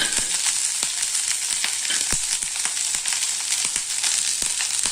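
Okra (ladies finger) sautéing in hot oil with curry leaves, fenugreek and a broken chilli, giving a steady bright sizzle throughout with occasional sharp crackles and pops, close and loud.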